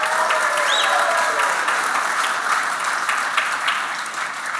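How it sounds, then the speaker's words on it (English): An audience at the Boulder Chamber Celebration of Leadership awards event at the Boulder JCC applauds: dense, loud, steady clapping fills the whole stretch, with a brief whistle early on. "Please hold your applause until I name them all."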